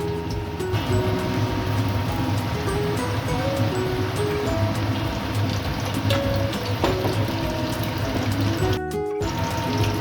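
Battered loitta fish fry in white oil in a pan, giving a loud, steady, close sizzle that crackles continuously throughout with no voices over it.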